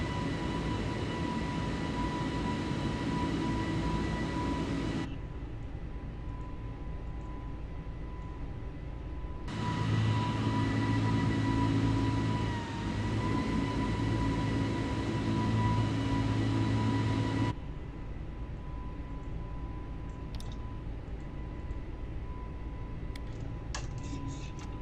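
Airliner taking off in Microsoft Flight Simulator 2020: a loud, steady engine roar comes in long stretches, drops suddenly to a quieter rumble between them, then falls away near the end with a few faint clicks.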